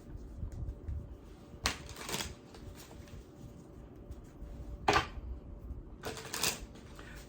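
Tarot cards shuffled by hand on a table indoors, giving several brisk riffling bursts separated by quieter shuffling and handling noise, close and moderately loud.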